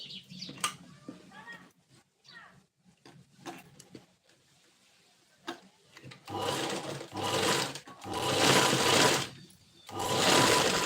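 Sewing machine stitching the neckline of a princess-cut blouse front: sparse quiet clicks and handling noises, then several loud, rapid runs of stitching in bursts toward the end.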